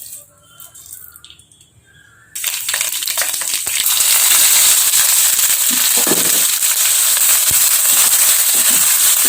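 Mustard seeds and fenugreek crackle and spit in hot oil while frying for a mathi fish curry, starting quiet then bursting into a loud, dense, continuous sputtering with sharp pops throughout.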